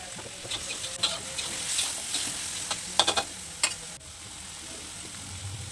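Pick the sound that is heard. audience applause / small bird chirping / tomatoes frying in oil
tomatoes frying in oil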